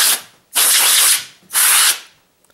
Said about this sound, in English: take some deduster air and just kind of spray it all out